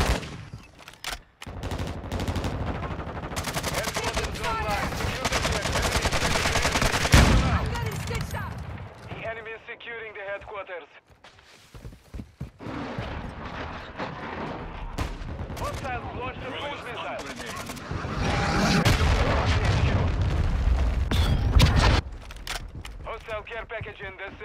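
Heavy video game gunfire, dense rattling bursts of automatic weapons and explosive booms filling most of the stretch, loud and close, with shouted voices breaking in between volleys.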